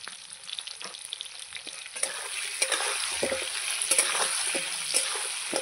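Pieces of fish and potato sizzle steadily in hot oil in a pan while being stirred, with scraping spatula clicks over a constant, close frying hiss.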